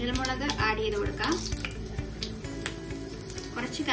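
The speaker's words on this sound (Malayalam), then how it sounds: "കടുക് പൊട്ടി ഇനി നമുക്ക് വറ്റൽമുളക് ആഡ് ചെയ്ത് കൊടുക്കാം" Dried red chillies crackle and sizzle in hot oil with popped mustard seeds and asafoetida for a rasam tempering, a busy close-up frying hiss with small sharp pops and occasional clinks.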